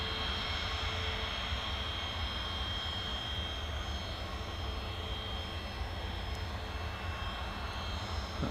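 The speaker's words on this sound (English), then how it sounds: "Virgin's taxiing back to stand, looking absolutely gorgeous." A Virgin airliner taxiing back to its stand, heard as a steady, loud jet engine roar with a constant whine, unbroken and without talk.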